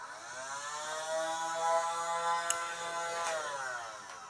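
Nerf Rival Challenger blaster spinning up its flywheels, a steady close whirring motor hum with rising and falling harmonic tones and a couple of faint clicks.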